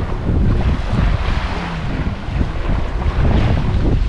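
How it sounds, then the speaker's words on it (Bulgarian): Sea waves wash onto a beach in Bulgaria as a constant loud rushing roar, heavily mixed with wind rumbling against the microphone, with no voices. "Това е морето."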